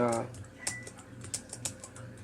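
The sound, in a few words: typing on tablet keyboard case arrow keys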